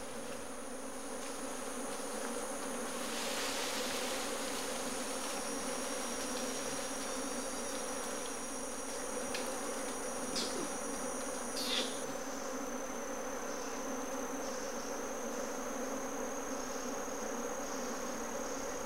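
Dense, continuous buzzing of many bees near their nest fills the air for the whole stretch, steady and close, with no voices.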